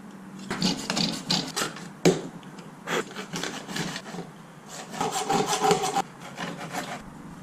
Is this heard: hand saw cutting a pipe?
yes